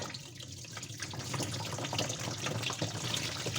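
Water drains through a sink pipe clogged with caustic soda, a steady close hiss and gurgle of running liquid with no voices over it.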